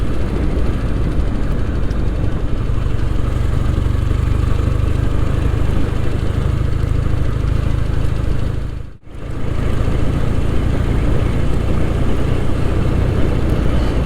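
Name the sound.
Royal Enfield Interceptor motorcycle engine riding back roads in top gear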